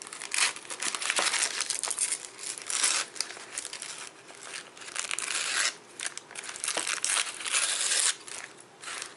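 Paper edges are torn for a handmade journal. Close, crisp tearing and crinkling comes in repeated bursts with short pauses between them.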